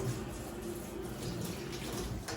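Water pours and splashes steadily while a flower pot is rinsed to wash off loose soil, close and continuous with no break.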